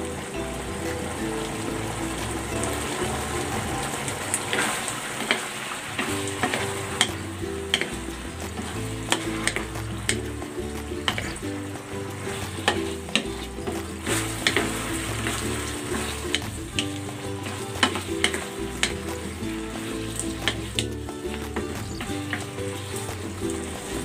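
Eggplant with oyster sauce and ground pork stir-fries in a pan with a constant loud sizzle, broken by repeated scrapes and clacks of stirring, and no one speaks.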